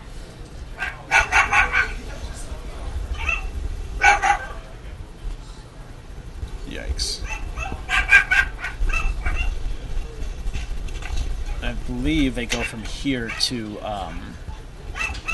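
Puppies whimpering and yipping in short bursts close by in a house at an animal hoarding scene, with people talking over much of it.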